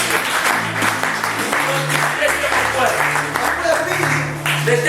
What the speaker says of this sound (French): Est-ce que tu peux acclamer pour la gloire de notre Dieu?